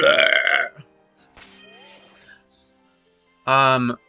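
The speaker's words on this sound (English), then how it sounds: "I got the burps." Human burps: a loud, low, croaking belch opens, then soft talking, and a second strong belch comes near the end.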